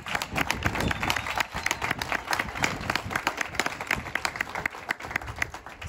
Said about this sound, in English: I want to hear a louder round of applause for Bee Horner